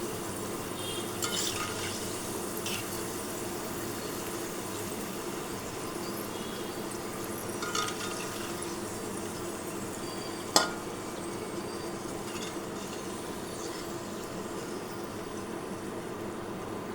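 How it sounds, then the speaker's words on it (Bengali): Batches of sliced potatoes for chips fry in hot oil, a continuous close hiss and bubbling sizzle with a few faint clinks and one sharp knock partway through, and no talking. "এভাবে আমি সব আলুগুলো ভেজে নিচ্ছি।"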